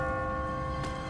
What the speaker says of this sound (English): I wonder for whom that bell tolls.